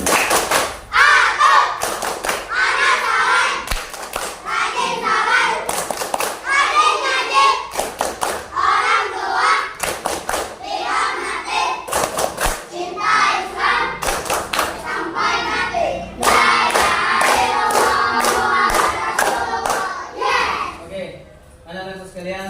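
A classroom of children performs a rhythmic greeting clap, bursts of sharp hand claps and thumps alternating with children chanting together, loud and close, ending in a fast flurry of claps before falling quiet.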